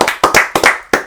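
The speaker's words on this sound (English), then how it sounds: "Clap it up for that." A handful of sharp hand claps from people cheering in a podcast studio, close and crisp, arriving in a quick uneven burst over about a second.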